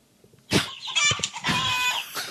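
A chicken clucking sound effect bursts in suddenly after near silence: a short run of squawky, throaty clucks lasting about two seconds, loud and close.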